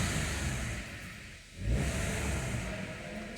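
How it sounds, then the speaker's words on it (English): A 2016 Hyundai i10 1.0 Blue Drive engine idles, dips briefly, then rises in a smooth rev before easing back, a steady mid-pitched hum heard close with no talk. "Let's give it a few revs for you."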